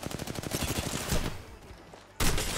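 Rapid automatic gunfire in Apex Legends crackles in a fast string of shots, fades into a brief lull, then a sudden loud burst resumes near the end.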